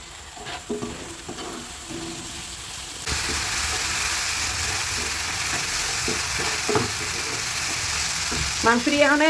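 Chicken meat hits a hot pan for chicken noodles and breaks into a loud, continuous sizzle, preceded by quieter scraping and stirring, with a brief voice near the end.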